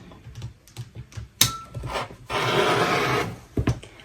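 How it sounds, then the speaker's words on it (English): A rotary cutter rolls across fabric scraps along the grooves of a Stripology XL ruler, with light taps and handling clicks before a steady, close rasping slice lasting about a second, then more tapping. "I'll take my rotary cutter and I'm going to cut right into these little grooves for whichever size I want"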